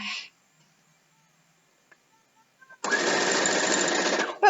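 A sewing machine stitches a queen-sized quilt in a rapid, steady mechanical whir lasting about two seconds after a short quiet pause with small handling clicks.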